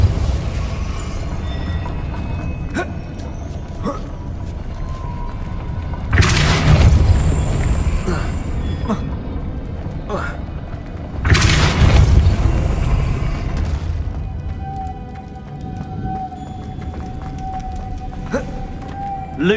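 Spells cast in Hogwarts Legacy, including Depulso, land as two deep, roaring blasts of force with rumbling low-end tails, set against a steady game ambience with small clicks and chimes.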